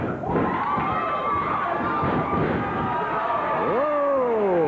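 Wrestling crowd at a USWA tag team match roaring loudly and continuously, with sustained shouts and cheers filling the arena and a few rising whistles or yells near the end.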